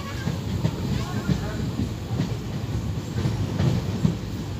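Electric-locomotive-hauled Varanasi City–Chhapra passenger train 05446 passes close by on a curve near Tajpur Dema, a loud continuous rumble with rhythmic clickety-clack of wheels over rail joints.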